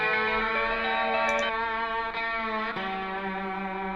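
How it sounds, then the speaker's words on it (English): Reverb-drenched slide guitar from a bounced stereo track: sustained harmonic tones glide and shift, with a wash of effects and echo trailing behind, loud and steady with no voices. "Lots of reverb"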